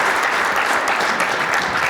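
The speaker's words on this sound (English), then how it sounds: "please join me in giving a quick round of applause to the amazing panelists." Applause from a panel discussion audience at an economics event, a dense steady wash of clapping that stays loud and even for a couple of seconds with no voices over it.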